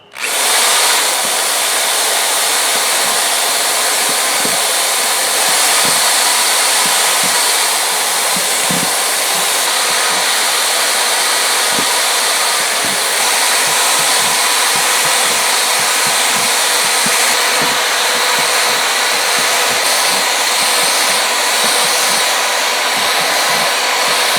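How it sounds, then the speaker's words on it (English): A power drill whines steadily and loudly, boring holes through a plastic tote; the motor runs continuously for over twenty seconds with small crackles and ticks as the bit works through the plastic, and no one speaks. "all I gotta do, drill some holes"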